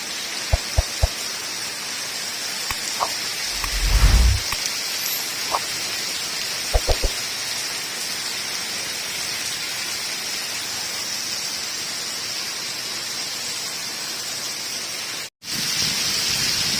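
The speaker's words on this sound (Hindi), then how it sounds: "बहुत तेज़ बारिशें हो रहा है" Heavy rain pours steadily over a market in Shershah, Karachi, a dense hiss of drops on surfaces, with a few sharp knocks and a brief low rumble near the start.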